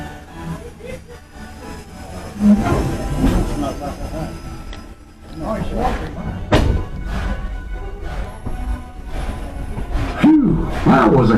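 Riding a train: a rumbling carriage with clattering thumps and intermittent wheel squeal, voices talking over the steady ride noise.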